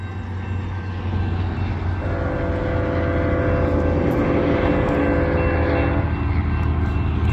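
A loud, continuous rumble of a long Union Pacific freight train rolling past, with a droning horn-like tone holding for a few seconds in the middle.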